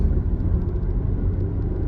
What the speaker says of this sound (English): traffic's getting a little crazy